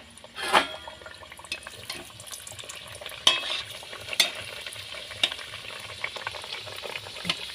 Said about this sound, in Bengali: তেলটা আমার গরম হয়ে গেছে আমি এইবারে ভেজে নেবো একটা একটা করে